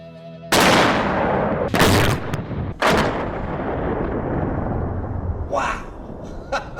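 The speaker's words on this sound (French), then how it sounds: "Un petit tas de poudre inoffensif qui a provoqué l'une des explosions les plus spectaculaires de toute l'histoire de Mythbusters." A small pile of powder detonates outdoors with a sudden, very loud blast, followed by a second sharp crack and a long rumbling roar that slowly fades, with a few short bursts near the end.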